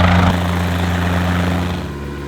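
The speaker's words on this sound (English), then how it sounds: "There's another helicopter coming in." Steady low rotor and engine drone of an approaching helicopter, loud and continuous, easing slightly toward the end.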